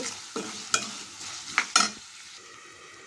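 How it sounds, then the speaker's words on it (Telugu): Ginger paste frying in a pan for vegetable rice, with a steady soft sizzle under several scraping stirs of a spoon against the pan, heard close up. "కొంచెం అల్లం పేస్ట్ వేద్దాం"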